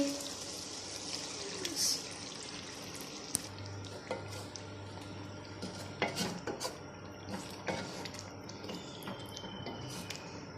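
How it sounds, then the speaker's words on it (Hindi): A cup of yogurt goes into browned chicken in a pot for achar gosht, with a spoon clinking and scraping against the pot during mixing over a faint background sizzle. "अब हम इसके अंदर 1 कप दही ऐड करेंगे।"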